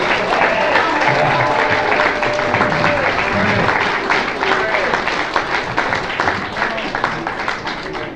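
Dense, loud audience applause at a grassroots festival session, a continuous wash of clapping from a crowd with voices and talk mixed in, tapering slightly toward the end.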